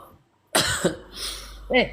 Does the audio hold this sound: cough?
yes